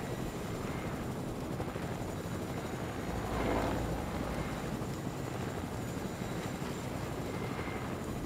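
A video game helicopter drones steadily throughout with a broad, even rotor and engine noise, swelling slightly midway, with no talk.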